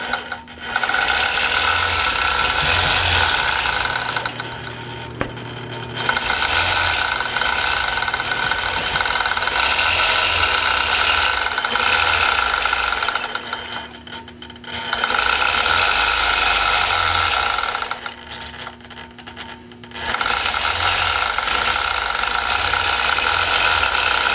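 A sewing machine double-stitches along the top of a quilt binding toward the miter. It runs as a loud, steady mechanical whir in three long bursts, separated by brief pauses, with no voices.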